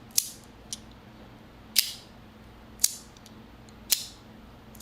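A gravity clicker toy snaps out sharp, close clicks, about six in all, spaced irregularly with quiet gaps between them and no voices.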